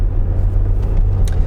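A Range Rover Sport Autobiography with a twin-turbo engine drives along, its steady low rumble and road noise filling the cabin evenly with no voices.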